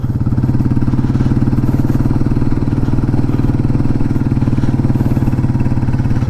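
A motorcycle engine labours steadily up a steep hill in second gear, a loud, continuous, throbbing drone with a rapid firing pulse that holds evenly throughout, close by, with no talking.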